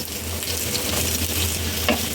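Chopped onion and garlic frying in hot oil in a preheated pan make a continuous, close, loud sizzle with a soft stirring scrape near the end, no talking.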